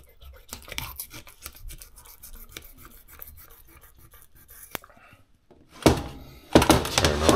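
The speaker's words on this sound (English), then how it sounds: "Turn the knife in and get by the dorsal fin." Knife slicing through a freshly caught fish fillet near the dorsal fin, a series of small scraping and tapping cuts, then louder rasping strokes near the end.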